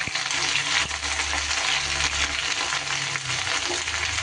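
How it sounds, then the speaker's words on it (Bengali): Cut okra (bhindi) frying in hot white oil over a high flame, a loud dense sizzle heard close and continuous, with low scraping and knocks from stirring underneath. "খুব মুচমুচে করে ভেন্ডি আমি ভাজবো না, একটু হাই ফ্লেমে ভালো করে নাড়াচাড়া করে নেব।"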